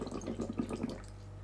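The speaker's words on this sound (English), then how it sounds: "First, blow into the water and make some bubbles." Bubbles blown through a straw into water, a short burst of close gurgling, bubbling pops for about a second before fading, with no talking.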